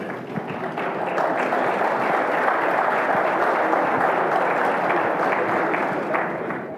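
Applause from a roundtable conference audience welcoming the Eurogroup president on stage, dense and steady clapping from a large crowd that holds at a full level for several seconds, with no voices on top.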